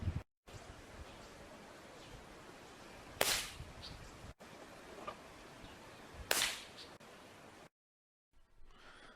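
Two inexpensive PCP air rifles fire one after another, each a sharp, crisp crack with a short hiss of release, over faint steady background noise outdoors.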